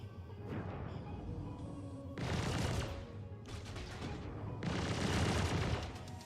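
Turrets fire in the Star Citizen space game, heard as two long, loud bursts of rapid gunfire separated by a quieter rumbling stretch, with no talk.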